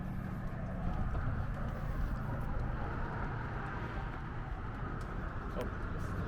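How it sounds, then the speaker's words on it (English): Traffic on a highway beside Hoover Dam makes a continuous low roar, a dense rumbling wash of passing cars that stays steady throughout with faint talk mixed in. "It's a bunch of cars going by, and this is a highway"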